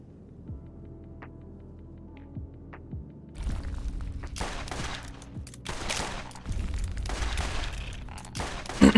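Gunfire in the video game Borderlands Remastered during a boss fight: after a quiet low hum, dense bursts of rapid shots and impacts erupt and continue loudly to the end.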